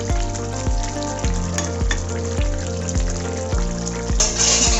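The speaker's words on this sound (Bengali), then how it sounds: "একটু নেড়ে দেবো ধনেপাতা দিয়ে।" Fish curry with coriander leaves simmers and sizzles in a pan as it is stirred, with a steady bubbling frying sound broken by repeated soft, rhythmic scraping strokes, close and moderately loud, with no talking.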